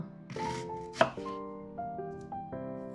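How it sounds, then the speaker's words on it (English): A knife cuts an onion for roast beef, a few soft chops with one sharper knock, close and faint, over a background of sustained tonal hum. "I cut the onion."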